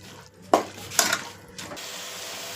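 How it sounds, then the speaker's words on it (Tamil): Masala cooking in oil in a pan, a low sizzle broken by a few louder bursts of stirring and scraping, then settling into a steady, quieter frying hiss. "எண்ணெயிலேயே வேகட்டும்."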